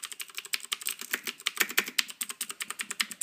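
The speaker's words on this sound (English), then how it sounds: "here we have the actual keyboard with the green switches. As you can hear, they sound a lot like blue switches" Fast clicky typing on a CM Storm QuickFire Rapid mechanical keyboard with Cherry MX Green switches, a dense, steady run of sharp keystrokes heard up close.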